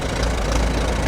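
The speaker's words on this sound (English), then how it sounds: "And there's Kevin Stottmiller with his LA Case tractor." An old Case LA tractor engine rumbles steadily at low revs in a Fourth of July parade in Oshkosh, a continuous loud chugging drone with a knocking undertone and no pauses.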